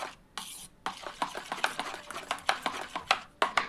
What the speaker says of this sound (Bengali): এখন ভালো করে আমি এই যে ভালো করে চামচ দিয়ে সবগুলো একসঙ্গে ভালো করে মিশিয়ে নিব